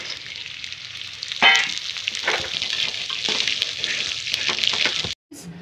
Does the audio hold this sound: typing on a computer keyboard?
no